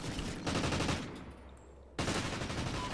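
Rapid bursts of automatic gunfire crackle in a first-person shooter video game, loud and close, pausing briefly before another volley erupts.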